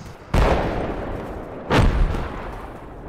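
Two heavy mortar impacts in the Project Reality military game, one near the start and another about halfway through, each a loud broadband boom with a long rumbling decay over steady battlefield background noise.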